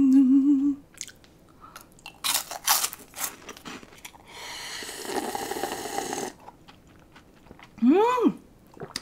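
Close, crisp chewing and biting of strawberry cake from a Korean convenience store, in scattered bursts with short pauses, no talking over it.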